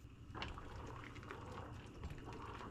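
Dry bean pasta is dumped into a pot of boiling water seasoned with bouillon, giving a brief splashy rattle over a steady bubbling hiss.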